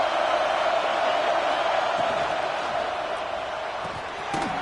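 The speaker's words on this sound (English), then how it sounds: "And here comes the noise. This crowd is trying to inspire this defense to make a big red zone stop." A football stadium crowd roars in a dense, sustained wash of noise as the defense tries for a red zone stop, loud and continuous, easing slightly before a brief bump near the end.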